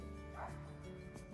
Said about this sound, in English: can hear a dog in the field, so they must protect the property